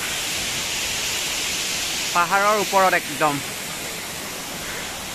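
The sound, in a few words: Kakochang waterfall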